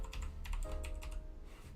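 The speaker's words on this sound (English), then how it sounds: "Don, I can hear you fucking typing like a little T-Rex" Rapid, uneven keystrokes clatter on a computer keyboard during a live online broadcast, a close and steady burst of typing with no talk over it.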